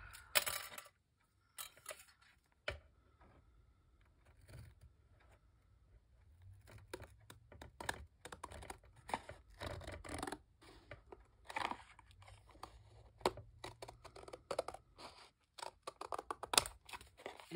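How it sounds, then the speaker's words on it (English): Quiet snips and crisp paper rustles come in short bursts with brief pauses, close and soft, with no voices. "now I can use my scissors and cut off this extra"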